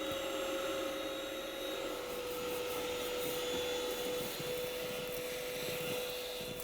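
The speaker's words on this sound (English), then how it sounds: "Go back in with your vacuum to clean up any remaining lint." Vacuum cleaner sucking remaining lint from a household dryer vent, a steady faint whine with an airy hiss that holds evenly throughout with no talking.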